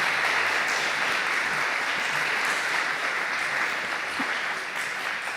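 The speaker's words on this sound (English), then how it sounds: "Can we give him a round of applause, please?" Steady, even applause from an audience at a live session for a performer, a dense wash of clapping that holds at a moderate level for over five seconds, no talking over it.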